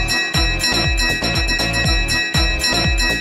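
A bright bell rings over and over in a steady repeating pattern over a bouncy cartoon music bed, loud and continuous, on Grandpa Pig's boat in the Peppa Pig cartoon.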